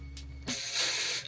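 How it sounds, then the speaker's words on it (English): Holding spray hisses from an aerosol can onto the inside of a quick weave wig closure, a single steady burst of about three quarters of a second following a short quiet lead-in. "Holding spray on the inside."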